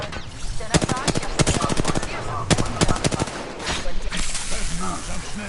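Rapid video game gunfire in repeated automatic bursts, loud and close, with short gaps between volleys and people talking over it.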